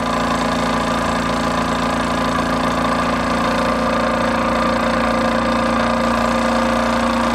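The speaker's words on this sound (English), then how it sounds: "So that is the Wilecsco D6 Steam Engine." A Wilesco D6 model steam engine runs steadily on a cold day, giving a continuous loud mechanical hum and rattle with a constant tone throughout.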